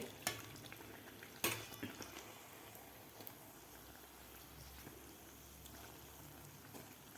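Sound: frying rice sajuri in oil

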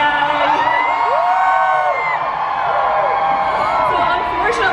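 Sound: enthusiastic crowd cheering

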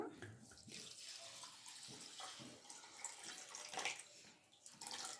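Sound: water poured onto sago pearls (sabudana) in a bowl

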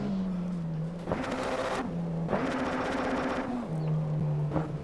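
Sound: car engine revving in a tunnel

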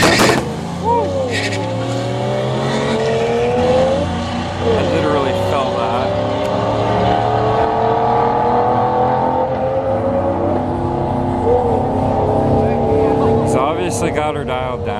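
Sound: Nissan R33 Skyline car driving at raceway

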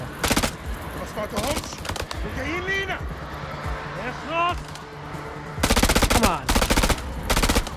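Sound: pistol gunshots in the video game House of Ashes

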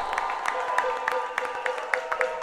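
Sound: crowd applause at live concert

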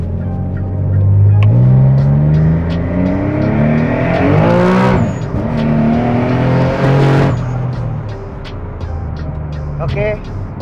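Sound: Nissan Fairlady 370Z engine revving on test drive

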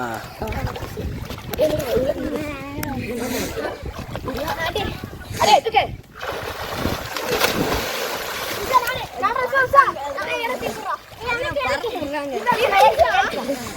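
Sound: children jumping and splashing in village water

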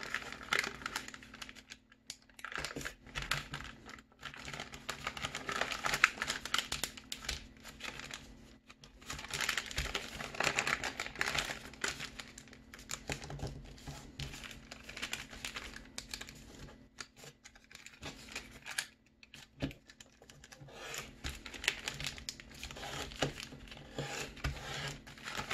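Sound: folding origami paper gift box

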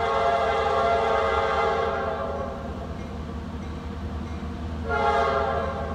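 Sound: Norfolk Southern freight train passing with horn

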